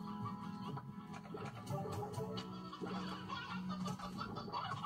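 Chickens cluck in the Slime Rancher video game, a continuous busy flurry of overlapping clucks at moderate volume, with no voices.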